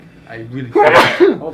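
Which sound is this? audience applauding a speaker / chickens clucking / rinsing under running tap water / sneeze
sneeze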